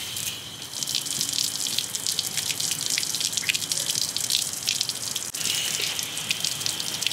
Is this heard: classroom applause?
no